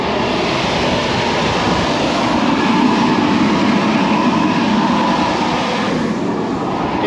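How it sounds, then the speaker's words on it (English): Strong wind gusting across an open farm field during bean drilling, a loud, steady, broadband roar that buffets continuously for the whole stretch with no voices. "It's mega windy."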